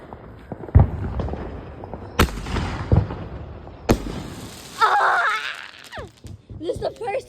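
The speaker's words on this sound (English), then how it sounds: "This is the first time I go under fireworks." Fourth of July fireworks bursting close overhead outdoors, several sharp booms and crackles spread across the stretch, some loud and near, with voices talking and exclaiming between the blasts.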